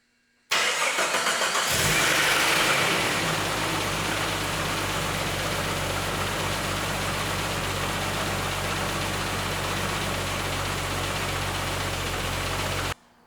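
A Jeep YJ engine cranks and catches, then settles into a steady low idle that runs unbroken, close and fairly loud, before cutting off.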